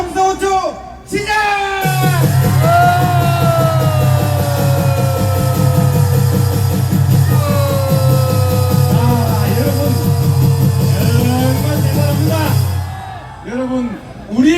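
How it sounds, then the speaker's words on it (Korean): A large crowd at a political rally roars and shouts together for about ten seconds, a loud sustained wall of yelling voices with a speaker's amplified voice over it, then the noise fades and speech resumes. "여러분 함성 5초 시작!"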